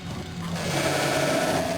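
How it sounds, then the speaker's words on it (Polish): Double-bladed chainsaw weapon in the video game Doom 64, giving a steady, continuous mechanical buzzing whir that holds at an even loudness for the whole stretch, with no voices over it. "piła łańcuchowa dorobiła się drugiego ostrza"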